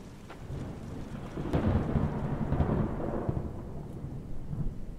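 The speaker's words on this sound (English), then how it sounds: "there's a storm brewing outside" A thunderstorm with rain in the horror game Joy of Creation: low rolling thunder swells and rumbles for several seconds over a steady hiss of falling rain, loud and close, with no voices.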